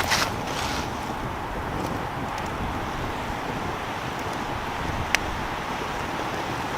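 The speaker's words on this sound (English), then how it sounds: "This wind is stirring something up right now." Wind blowing outdoors at a campsite, a steady broad rushing hiss with microphone buffeting, one brief sharp click near the end, no voices.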